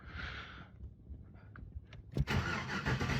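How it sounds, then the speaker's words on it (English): A Box Chevy with an LS swap engine cranks briefly, then catches and roars to life, turning into a loud, steady run that lasts to the end. "I'm going to fire this thing up."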